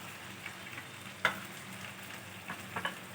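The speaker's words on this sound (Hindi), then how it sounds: "चिकन को हमने तकरीबन 5 मिनट तक फ्राई किया है" Chicken with ginger garlic paste frying in a karahi, a faint steady sizzle with a few sharper crackles and a clear clink of a utensil near the start, quiet and close.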